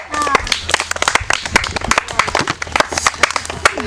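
Crowd applause at a yogurt eating game: fast, dense hand claps close by that keep going without stopping, with voices shouting over the clapping.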